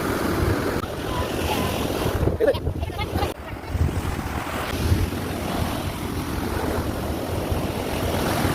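Sea waves wash in steadily at Shankhumukham beach under strong wind buffeting the microphone, a continuous broad roar with surges of surf.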